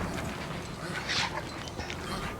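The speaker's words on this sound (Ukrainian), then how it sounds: "Dog's bleeding out." An injured, bleeding dog whimpering in the video game Mad Max, a soft close whine rising briefly in the middle over a dense, steady game background.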